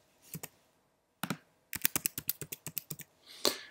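Keys on a computer keyboard tapped in short bursts, first a few isolated presses, then a quick run of about a dozen crisp clicks, close and clear with no talking.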